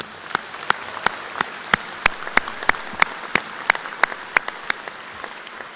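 A commencement ceremony audience gives clear applause, with many close, sharp individual claps sounding in an uneven but steady stream.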